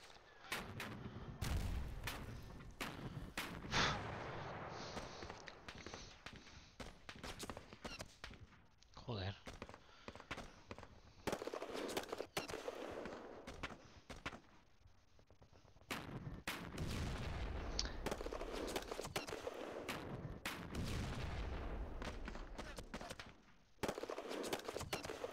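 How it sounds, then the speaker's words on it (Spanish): Russian units firing artillery and small arms in the wargame Panzer Battles, Kursk southern flank 1943: repeated sharp blasts and crackling volleys at steady loudness over a rumbling battlefield, with voices talking in places. "cómo disparan los rusos"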